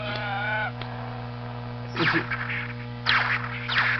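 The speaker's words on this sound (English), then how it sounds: "it sounds like you're making contact with lightsaber blades" A Star Wars Smart Play toy lightsaber gives off electronic blade-clash effects, a few short crackling bursts over a constant low buzzing hum, small and tinny with no talking.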